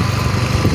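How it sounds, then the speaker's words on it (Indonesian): A small motorbike engine buzzes steadily at close range while riding along toward a rice field, a constant pulsing drone with no voices. "masih naik motor, bentar lagi sampai"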